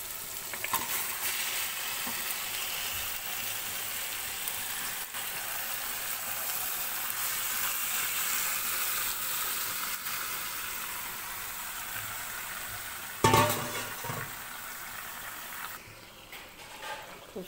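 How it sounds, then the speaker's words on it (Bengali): Marinated meat tipped into a pan of softened fried onions, hissing in a steady, close broadband sizzle that swells briefly as the meat lands and then settles, with faint stirring and no talk. "আমি মাংসটা যে ম্যারিনেট করে রেখেছিলাম ওই যে, সেই মাংসটা এখন আমি ঢেলে দেবো।"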